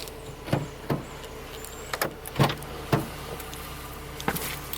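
A car's power windows go down as a series of short mechanical clunks and whirs over a steady low engine hum inside the started car, fairly close and moderately quiet.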